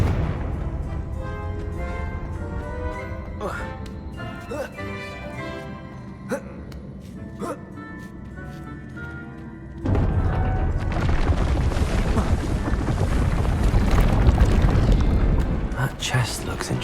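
Confringo fire spell in Hogwarts Legacy, a heavy booming blast that swells into a loud sustained roar, preceded by layered game music and effects.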